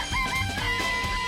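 Chickens in a coop in the video game Danganronpa, soft clucking calls over a steady tonal background hum, near and moderately quiet, with no speech.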